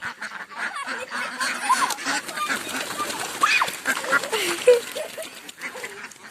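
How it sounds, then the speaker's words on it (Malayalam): Ducks quack and honk near a pond on a goat farm in the evening, with scattered nasal calls at varying distances over faint background chatter. "അപ്പൊ ഗൈസ്, ഇതാണ് നമ്മുടെ താറാവ് അതിഥി."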